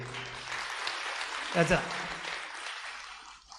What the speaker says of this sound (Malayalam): അവർക്ക് വേണ്ടി വലിയൊരു കൈയടി